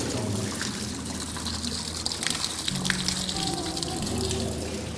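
Cold holy spring water flowing and trickling from a source near Garni, a steady close splashing babble with no break, a little irregular and fairly soft.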